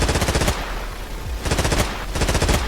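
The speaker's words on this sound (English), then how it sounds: "So if I start shooting, I turn off infinite ammo and start shooting." A vehicle turret gun in the Stormworks game fires two loud, rapid bursts of automatic fire, each about half a second long, with a short pause between.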